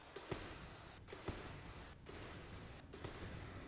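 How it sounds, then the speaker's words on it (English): Gyrocopter's Flak Cannon in Dota 2 pops in a steady rhythm, roughly once a second, several sharp bursts over a dense battle din of clashing creeps and effects in a tower attack. "Love that pop sound. The gyrocopter."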